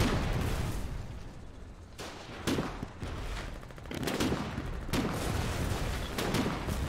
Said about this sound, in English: Keep firing, keep firing, keep firing.